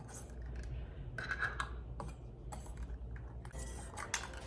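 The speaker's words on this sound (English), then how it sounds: "I have sterilized the lids, and I'm going to put those on now." Sterilized metal lids go onto glass canning jars filled with homemade tomato soup in a kitchen, making close, irregular clinks, taps and light scraping with brief pauses between placements.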